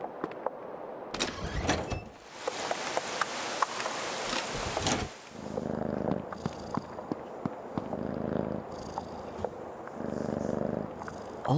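A cat purring in the video game Creepy Tale 2, a continuous rumbling purr in repeated swells, interrupted by short bursts of louder game sounds, with no speech.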